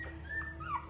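Rescued puppies, once dehydrated and thin, give a soft high whimper with a brief rising whine near the end, over low steady background noise.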